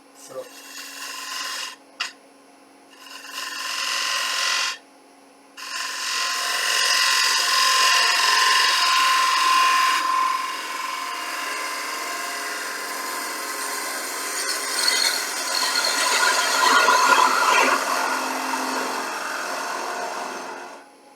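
A gouge cuts a wooden bowl on a lathe, giving a rasping, hissing scrape in short bursts separated by brief pauses, then a long continuous cut that swells and fades, fairly close and moderately loud.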